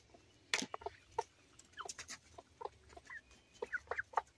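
Hens of a backyard flock, Leghorns among them, cluck and squawk while pecking at lunch, giving scattered short calls and one sharp cry, near and fairly quiet.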